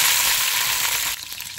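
Curry leaves hit hot oil with a loud, bright crackling sizzle that bursts up at once and then drops to a softer, steady frying hiss.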